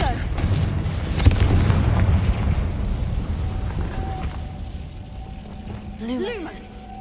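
A Confringo fire spell explodes in Hogwarts Legacy with a heavy, close boom followed by a rolling rumble that slowly decays, with whooshing game effects trailing off.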